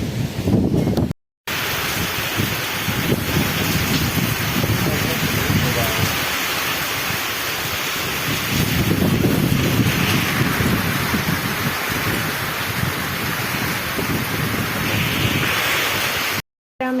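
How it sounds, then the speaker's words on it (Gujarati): A violent storm of heavy rain and strong wind batters the countryside, a loud, continuous roar with gusting surges that rise and fall, cut off briefly near the start and again at the end. "ખતરનાક તુફાન છે, તુફાન"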